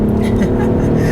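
A 2018 Audi SQ5's engine pulls under acceleration from inside the cabin, a loud steady drone with a rising tone partway through.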